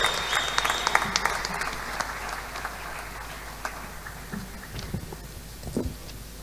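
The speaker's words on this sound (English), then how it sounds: "A round of applause for Bishop Mfula as he comes to give us the statement of purpose." Applause at a Christian Nation commemoration in Zambia as Bishop Mfula comes forward: a sparse, uneven patter of clapping that thins out over several seconds, with a few louder individual claps standing out near the end.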